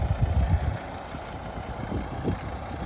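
Five-cylinder D4 diesel engine of a 2014 Volvo V60 idles steadily with a low, even rumble, slightly louder in the first moments, and no talking.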